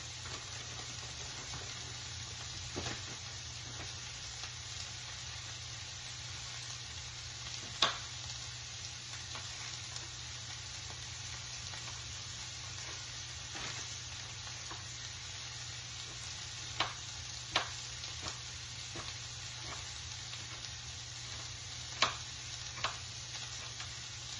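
Leftover onion and jalapeno frying in a pan, a soft constant sizzle throughout with a few sharp clicks and taps from utensils against the pan, and no talking.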